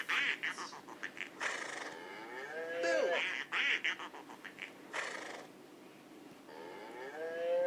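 Several cows moo in long, drawn-out calls mixed with honking and quacking from geese or ducks, a busy farmyard chorus.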